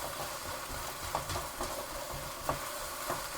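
A prawn noodle stir fry sizzles steadily in a pan, with a few soft scraping stirs against the metal, close up and with no talking.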